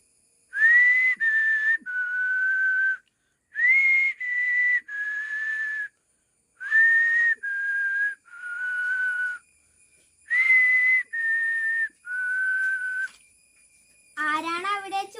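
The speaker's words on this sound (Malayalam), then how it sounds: "ആരാണ് അവിടെ ചൂളമടിക്കുന്നത്?" Someone whistles a melodic tune in four short phrases of rising and falling notes, clear and close with gaps between them, during a Malayalam reading of a passage from Vaikom Muhammad Basheer's novel Mathilukal; a voice begins speaking at the end.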